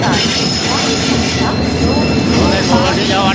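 A train pulls out of Sivasagar station in Assam, making a loud, close, continuous rumble with metallic wheel squeal and rolling clatter, and a faint murmur beneath it.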